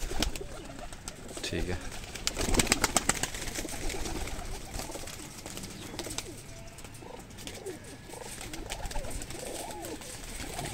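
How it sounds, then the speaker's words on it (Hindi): A crowd of pigeons in a breeder's loft coos steadily, with soft wing flaps and rustling throughout, while someone talks over the birds. "ये परिंदे हैं जी सारे"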